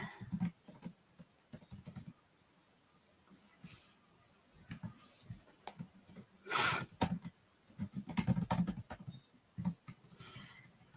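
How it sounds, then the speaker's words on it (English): Keys tapped on a computer keyboard early in the morning, a quiet, close patter of clicks in scattered bursts with pauses, some faint thumps and a voice talking at times between them. "I should not be typing this early in the morning because I cannot freaking spell"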